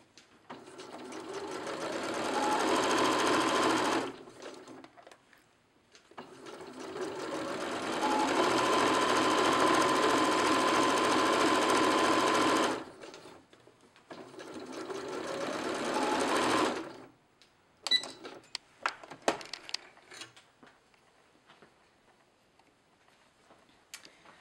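A sewing machine stitches a straight seam along the bottom of a homemade fabric face mask, running in three long, steady, close whirring passes with brief stops between them, then a few light clicks and handling sounds as it falls quiet.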